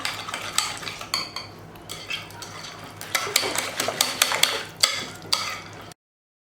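A whisk beats spoonfuls of flour in a bowl for Turkish yayla soup with chicken, clicking and scraping in quick irregular bursts against the sides, close and fairly loud, then stopping abruptly.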